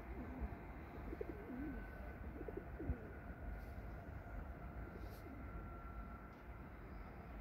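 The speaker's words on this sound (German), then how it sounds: "Mal Tauben gehört." Soft pigeon coos drift in a few short phrases over a constant rumbling background of train noise at a railway setting, with faint voices.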